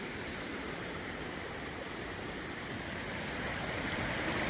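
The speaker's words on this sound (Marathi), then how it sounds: "बोरगाव आणि परिसरातील ओढे पूर्णपणे तुडुंब स्वरूपात भरून या ठिकाणी वाहत आहेत" Floodwater from streams swollen by heavy rain near Borgaon rushes along in a dense, steady roar, constant and unbroken with no voices.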